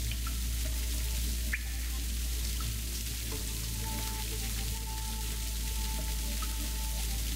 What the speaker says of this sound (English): It's kinda hard to think with all this, like, water sound in my earballs